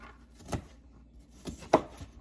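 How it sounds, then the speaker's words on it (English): A few sharp, separate knife cuts through a crisp apple on a board, with short quiet gaps between them. "just slice the apple up"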